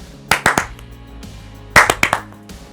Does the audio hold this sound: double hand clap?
yes